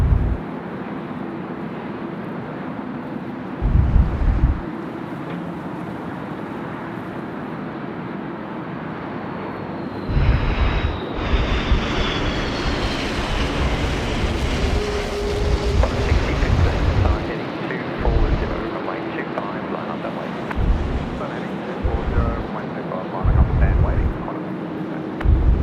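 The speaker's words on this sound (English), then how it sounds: "Coming in now is Qantas 414. It's an A330-200 in from Melbourne on the milk run. And this one here landing runway 25" A Qantas Airbus A330-200 lands on runway 25 at Sydney Airport in strong wind, a loud continuous jet roar with heavy gusts of wind buffeting the microphone.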